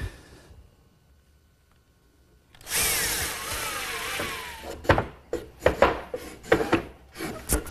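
Quiet at first, then a power drill whirs steadily for a couple of seconds, followed by a series of short, loud bursts as screws are driven into a wooden chaise lounge.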